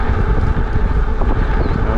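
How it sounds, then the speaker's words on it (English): Wind rushes past during an e-bike ride on an uphill road near the Jordan border, a close, continuous roaring buffet with rapid gusty fluctuations and no speech. "It's windy."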